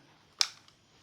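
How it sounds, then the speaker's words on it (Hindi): A single crisp click from the button of an old model camera, a sharp near snap followed by a faint rattle and small ticks in otherwise quiet surroundings. "ऐसे क्लिक करते थे, ये बटन है यहाँ पे, क्लिक किया और ये ओपन हो जाता था इस तरह से"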